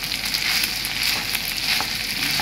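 Fried rice is stirred in a hot frying pan, with a loud continuous sizzle and repeated scraping strokes of the utensil running throughout, and no talking.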